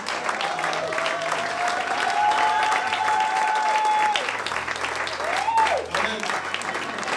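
A church congregation bursts into sustained, loud applause to acclaim the Lord, a dense roar of clapping that runs through the whole stretch, with voices and a rising cry heard over it.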